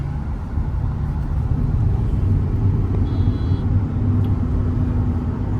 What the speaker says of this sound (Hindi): ये टायर नॉइज काफी आ रही है जो मैं नोटिस कर पा रहा हूँ।